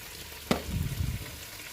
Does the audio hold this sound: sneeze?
no